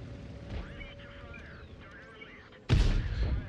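A T-44-100 tank fires its cannon on the Murovanka map with one sudden loud boom and a rumbling tail near the end. Quiet engine and game sounds come before it, and a voice talks softly.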